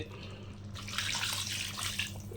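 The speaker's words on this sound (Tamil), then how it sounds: "நம்ம தேவையான அளவு தண்ணி ஊற்றிக்கலாம்" Water pours steadily into a pot of chicken curry on the stove, a bright splashing stream that starts after a moment and runs on close up, with no voices.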